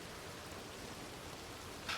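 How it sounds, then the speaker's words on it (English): Rain in the WildRP western video game falls as a steady, soft hiss of broad static-like wash, faint and even throughout, with a brief brighter patter near the end. "Ooh, awfully chilly with this rain."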